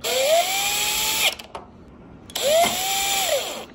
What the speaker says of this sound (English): a power tool is going to be my best friend